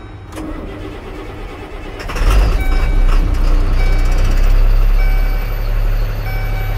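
A 2005 GMC truck, a former dump truck, cranks and its engine catches after about two seconds, then settles into a loud, steady idle close by, with faint beeping tones repeating over the running engine.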